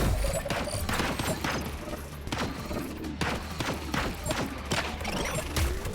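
Repeated sharp weapon shots and impacts in the VR game Blaston, including Viper shots, come in a busy, irregular series at moderate loudness with some talk underneath.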